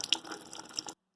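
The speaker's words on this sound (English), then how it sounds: "the faucet has run for 3 minutes on the hot side and 3 minutes on the cold side" Water runs from a faucet in a soft, steady trickle lasting under a second, then stops abruptly and leaves silence.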